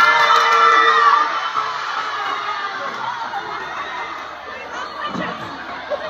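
A studio audience at a brand promotional event bursts into cheering and applause, loudest at the start and then easing into a steady, crowd-wide clapping and excited shouting that continues to the end.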